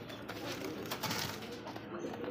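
Pigeons coo softly at a busy pigeon market, low murmuring calls under crowd noise and nearby chatter.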